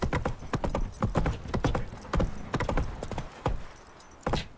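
Roach the horse galloping in The Witcher 3 Wild Hunt, with fast rhythmic hoof clip-clops, close and crisp, plus faint jangling of tack between strides.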